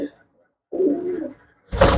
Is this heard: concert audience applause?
no